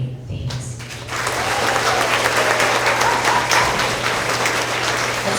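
Applause from the audience at a school end-of-year award assembly for 3rd to 5th graders, a sustained burst of clapping that builds quickly and holds steady, loud and filling the room.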